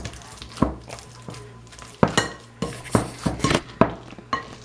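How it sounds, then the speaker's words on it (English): Ripe bananas being mashed in a bowl for banana bread, a series of close wet squishes and clinks of a utensil against the dish in an uneven rhythm, with no talking. "So we just gonna mash them up like this."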